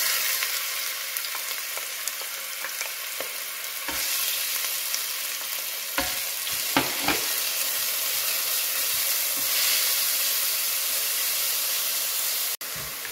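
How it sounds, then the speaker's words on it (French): Onions sear in hot olive oil in a stewpot for chorba, a constant close hiss and sizzle with occasional spoon knocks and scrapes against the pot, and no talking. "on fait chauffer de l'huile d'olive dans notre faitout. Et on va commencer par saisir les oignons."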